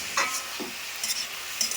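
Red amaranth leaves frying in a pan while being stirred, a soft continuous sizzle broken by a few short scraping strokes of the spatula, close and fairly quiet.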